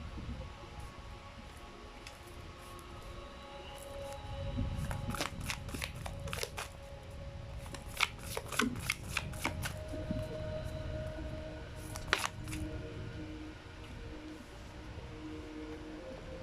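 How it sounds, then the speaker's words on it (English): Tarot cards are shuffled and pulled from a deck, giving bursts of quick riffling flicks and soft slaps, close but quiet against a low room hum, with no talking. "Let me pull up more cards here."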